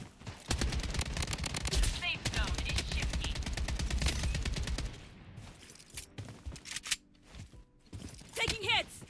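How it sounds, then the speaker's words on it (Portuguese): Many players firing guns in the BloodStrike shooter game: dense, rapid automatic gunfire bursts dominate for several seconds, then thin out to sporadic shots and mechanical clicks, with a player talking over it. "Muita gente atirando."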